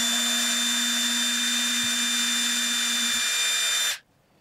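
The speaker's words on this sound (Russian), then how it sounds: "После нахождения центра берем сверло потолще и просверливаем уже насквозь." A thicker drill bit bores straight through a workpiece during a repair: a steady, loud, high motor whine holds for about four seconds, then cuts off abruptly to near silence.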